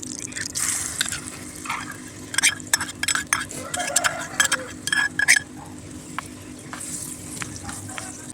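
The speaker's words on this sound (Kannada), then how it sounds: "ಚೆನ್ನಾಗಿ ಫ್ರೈ ಮಾಡೋಣ." Oil frying in a pan, likely with ground tomato paste and turmeric, while a utensil stirs and scrapes; a steady sizzle runs under clustered clinks and scrapes of utensil on pan, close and moderately loud, with no talking.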